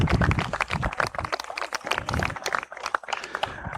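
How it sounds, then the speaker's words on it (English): Applause from a crowd at a women's under-19 cricket match in the Cayman Islands, a dense patter of clapping that holds steady at moderate volume for a few seconds, with a few voices mixed in. "So, ladies and gentlemen, give both teams a round of applause."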